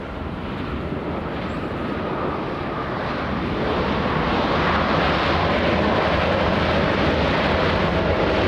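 At LAX an airliner comes in to land, a steady jet roar that swells gradually louder through the second half and stays strong, with no talk over it.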